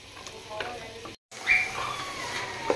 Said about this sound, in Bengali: কষানো হয়ে গেছে, এখন আমি এটার মধ্যে আলু দিব